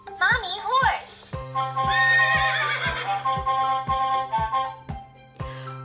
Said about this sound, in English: Mommy horse calls her foal.